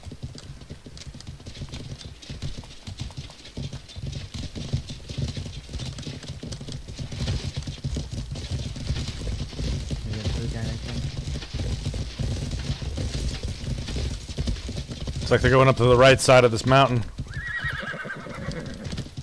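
Horses in the Life is Feudal MMO game clip-clop steadily through a skirmish near a mountain, with a loud whinny near the end, all under continuous voice chat.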